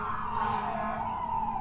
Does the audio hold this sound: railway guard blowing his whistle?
no